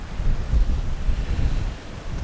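Gusty wind buffets the microphone outdoors at an autumn campsite by a parking area, a steady low rumble with surging gusts throughout, no talking.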